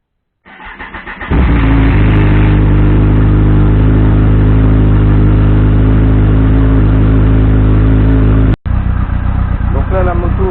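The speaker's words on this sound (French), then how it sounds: "la moto elle chauffe tranquillement" A Kawasaki ZZR 1400 motorcycle engine starts up and settles into a steady, loud warm-up idle with a deep, even rumble, briefly cutting out near the end before resuming.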